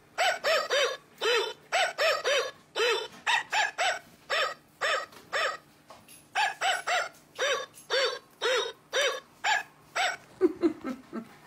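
A Christmas toy puppy dog barks repeatedly in steady, evenly spaced electronic yaps, loud and close, with a brief change in sound at the end.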